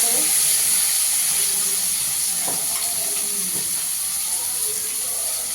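Spice paste fries in a pan with potatoes and a nigella-seed tempering, giving a steady, dense hiss that holds evenly throughout with a few faint clicks underneath.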